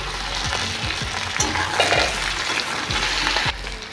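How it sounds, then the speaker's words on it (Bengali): Taro and potatoes fry with onion in a pan, crackling and sizzling loudly up close while a spatula scrapes and stirs in regular strokes about every half second. "পেঁয়াজ ভাজা হয়ে গেছে, দিয়ে দেবো কচু আলু। এগুলো ভালো করে ভেজে নেব।"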